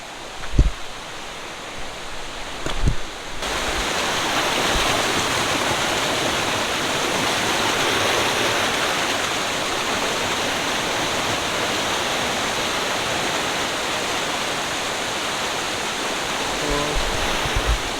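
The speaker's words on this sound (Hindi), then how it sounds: "फिर भी मतलब तुंगभद्रा वाटरफॉल ही कहते हैं लोग" Tungabhadra waterfall near a village, a dense steady roar of falling water that swells to full strength after a few seconds and carries on alone without voices.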